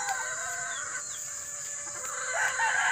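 Backyard chickens, hens and game fowl kept on a farm in Tanay, Rizal, give faint clucks and calls against a steady bed of ambient background noise, with no talking.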